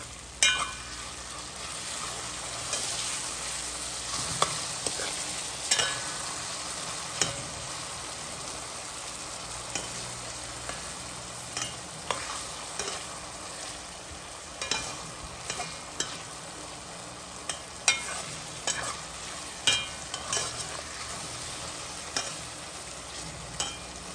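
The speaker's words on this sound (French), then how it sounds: "Je le laisse encore un petit peu cuire." A tomato mixture for shrimp and eggplant stirs and simmers in a pot, a quiet steady sizzle broken by soft repeated scraping taps of the spoon.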